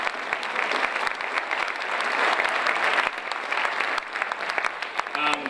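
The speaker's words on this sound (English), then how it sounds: "so round of applause for Ken." Audience at a municipal election forum held by a chamber of commerce bursts into sustained applause, a dense wash of clapping that lasts throughout, with a brief voice near the end.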